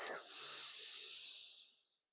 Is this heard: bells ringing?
no